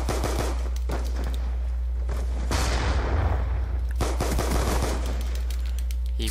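Rapid bursts of video game gunfire crackle continuously, loud and close, with sharp automatic volleys and booming impacts.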